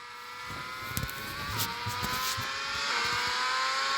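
A McLaren Formula 1 car in an F1 racing video game drones onboard toward turns 6 and 7, its high engine note rising and dipping through gear changes and braking, steady and fairly quiet, with no voices.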